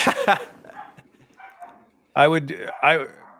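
A pet dog barks in a few loud, close bursts, yelping under and between stretches of indoor talk.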